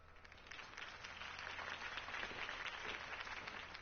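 Applause from a crowd in a Batman video game swells and holds as a steady wash of clapping, somewhat distant and without voices.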